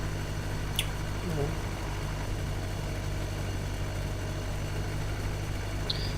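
Tractor engine in the Farming Simulator 2013 video game, a C385 model, idling with a steady low drone throughout, a faint whistle and brief sound effects over it.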